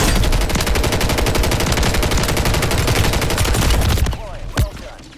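Rapid, loud automatic gunfire in Call of Duty Warzone on Rebirth Island, a steady stream of shots for about four seconds that cuts off abruptly, followed by a single sharp report and quieter background.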